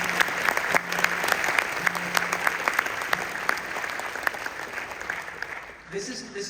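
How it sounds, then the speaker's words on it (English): Applause from an audience of parents and students at a university honor band event, steady clapping with sharp individual claps standing out, fading as a voice starts speaking at the end. "can we get some applause for the parents? Applause for the students."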